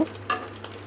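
Oil sizzles steadily in a pan as five-spice seeds fry, with a quick stir scraping through, close and fairly quiet.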